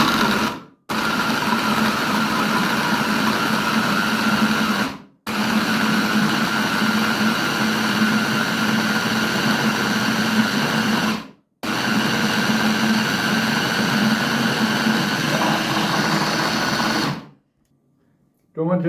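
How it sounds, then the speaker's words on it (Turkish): A blender whirs loudly in three long bursts with short pauses between, a steady motor drone chopping tomatoes, then stops. "patateslerimizi blenderda çektik."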